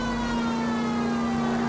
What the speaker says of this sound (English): When the siren's blaring, they decide to run right out in front of me.